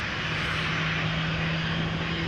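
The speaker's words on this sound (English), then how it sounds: "And another KLM 737 taking off in front of the 747." A 21-year-old KLM Boeing 737-900 takes off at Amsterdam with a loud, continuous jet roar and a steady low engine tone, heard close and alone.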